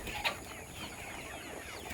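Backyard chickens recovering from illness cluck softly at close range in the morning, with one brief sharper call near the start over a steady background hiss.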